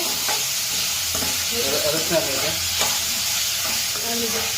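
Spices and tomato sizzle in a hot pan while being stirred, a continuous frying crackle with repeated scraping strokes of a spoon against the metal, close and fairly loud, with no talking.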